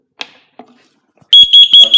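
A FireAngel Wi-Safe 2 fire alarm under test starts sounding after a few faint knocks, shrill loud beeps pulsing in a rapid repeating pattern close by.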